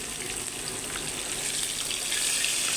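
Pieces of katla fish frying in hot oil, a dense, steady sizzle and crackle close by, running continuously throughout.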